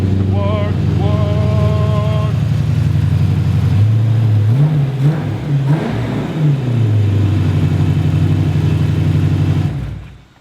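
BMW E34 with a rebuilt S62 V8 engine running close by, a loud steady idle that briefly wavers and blips before settling and cutting off near the end, with people talking over it.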